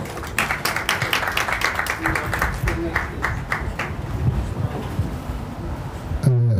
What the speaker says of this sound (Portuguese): Vamos recebê-lo com uma salva de palmas, por favor.